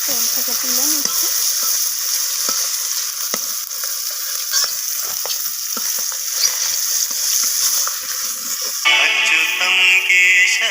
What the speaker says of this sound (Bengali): তো আমি বাকি মাছগুলোকেও ভেজে নেব একইভাবে।